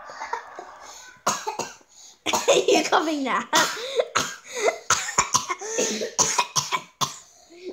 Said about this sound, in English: Oh my god, we're both coughing.